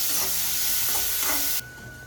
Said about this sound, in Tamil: அப்புறம் வெங்காயத்தை வந்து நல்லா வதக்கிடணும்.